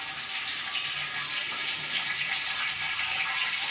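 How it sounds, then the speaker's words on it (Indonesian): Cireng dough poured onto hot frying oil gives a steady, loud hiss and bubbling sizzle that holds evenly for the whole stretch, with no talk over it. "kita tuangkan itu di atas minyak yang panas"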